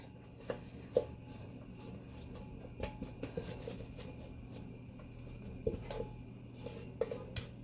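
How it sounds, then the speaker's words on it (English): Soft scraping and light clinks of a utensil against a baking pan as tres leches cake batter is spread out, faint and intermittent over quiet kitchen background. "go ahead and start spreading your cake batter into the pan"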